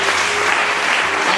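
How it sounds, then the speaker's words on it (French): Applause from a church congregation praising the Lord at a thanksgiving ceremony, a loud dense burst of many hands clapping together throughout. "Je voudrais qu'on acclame le Seigneur pour sa vie."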